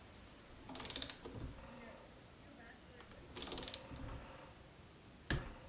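A torque wrench tightens the lower bolts on a Fox 36 suspension fork to 7 newton meters, giving short bursts of quick ratcheting clicks separated by quiet gaps, with a couple of sharp single clicks standing out.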